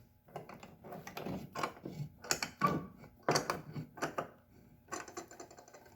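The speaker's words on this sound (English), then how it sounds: "So take your C-clamp and put it up against the ledge and clamp it up." A C-clamp being tightened on a wooden stop block against the fence of a radial arm saw, giving a close run of short ratcheting clicks, creaks and scrapes in uneven bursts.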